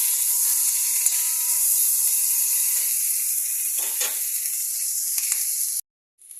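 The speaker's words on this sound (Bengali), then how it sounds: "এবারে এই সবজিগুলো খুব ভালো করে ভাজতে হবে।" Vegetables with capsicum fry in a pan, giving a bright, hissing sizzle close by with a few stir scrapes before it cuts off abruptly near the end.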